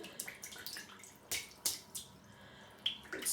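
A shaving brush is dipped and shaken in water, giving soft splashes and drips with a few sharper flicks, close and quiet with no talk.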